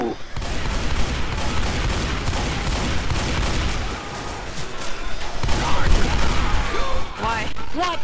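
Heavy gunfire in a Left 4 Dead 2 firefight with an auto shotgun, loud overlapping blasts and rattling bursts packed tightly together, with shouting voices mixed in near the end.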